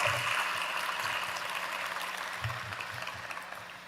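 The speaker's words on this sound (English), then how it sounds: "Give yourselves a round of applause" Graduates at a virtual university commencement ceremony give themselves a round of applause, a soft, distant wash of steady clapping that slowly tapers off.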